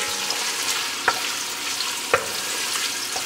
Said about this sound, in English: you basically want to fry it down and get the flavor out of it